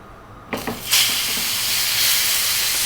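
A T-bone steak sears in a hot pan with its fat side rendering. After a few sharp crackles, a loud, steady broadband sizzle takes over and continues without talk.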